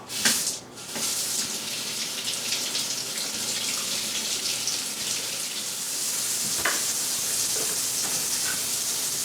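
Steady, loud rush of tap water running over beef bacon in a kitchen sink, continuous throughout with a few brief splashes and knocks as the meat is handled.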